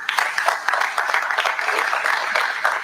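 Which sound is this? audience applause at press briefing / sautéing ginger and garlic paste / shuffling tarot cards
audience applause at press briefing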